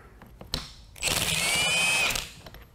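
An impact wrench removes an access bolt from the bottom of a Tesla belt-driven steering rack, making one loud, close burst of about a second of rattling hammering with a whine, after a few faint clicks and knocks.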